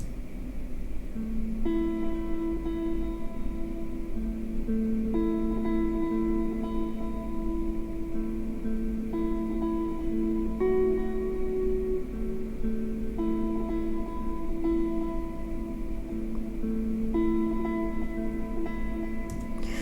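A soft synth arpeggio in Logic Pro cycles through repeating note patterns with delay repeats and a washy reverb tail, steady and mellow over a faint hum.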